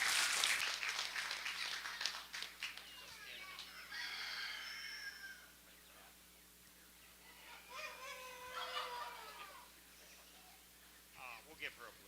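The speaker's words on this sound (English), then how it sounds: "Let's give Samantha a round of applause." Brief applause at a 4-H poultry show at a county fair: a short burst of clapping from the crowd, while chickens cluck and a rooster crows nearby and an announcer speaks over a PA.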